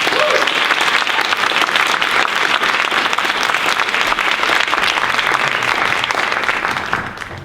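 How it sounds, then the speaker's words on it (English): At a regional high school poetry recitation contest, the audience applauds the contestants with loud, dense, continuous clapping filling the hall, tapering off in the final moments. "Let's give all of them a big round of applause."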